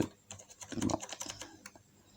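Typing on a computer keyboard, a short run of close, quiet key clicks at an uneven rhythm with a slightly louder cluster near the middle.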